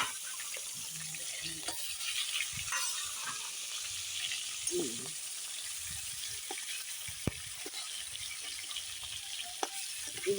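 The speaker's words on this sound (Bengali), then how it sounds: "এখন আস্তে আস্তে ভাজা হোক।" Pieces of fresh rohu fish fry in hot oil with a faint, steady sizzle, occasional soft clinks and light stirring noises, quiet and close throughout.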